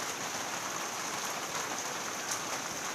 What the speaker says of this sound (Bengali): দেখো কি অঝোর বৃষ্টি হচ্ছে।